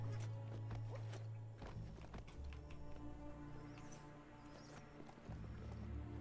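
Horse-like mount walking in the video game Biomutant, with steady clip-clop hoofbeats over a continuous game soundtrack and ambience, close and fairly loud throughout.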